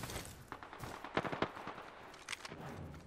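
Rapid automatic gunfire in the battle royale video game Apex Legends, bursts of close, loud shots clustered in quick rhythm, with scattered single cracks and distant echoing fire around them.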